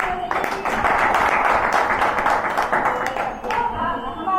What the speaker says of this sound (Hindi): तो इस सेक्टर के लिए जबरदस्त तालियां होनी चाहिए।